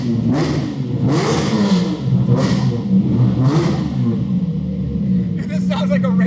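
A Lamborghini's modified exhaust revs loudly and repeatedly in close range, with four or five surging blips over a steady droning rumble, then a brief crackle near the end.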